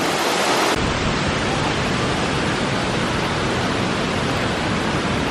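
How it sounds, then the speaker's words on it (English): A waterfall at Splash Country water park pours down as a steady, loud, broadband rush of water. It holds constant and close for the whole stretch, with no voices over it. "if you really want to get soaked, go over there beside that waterfall"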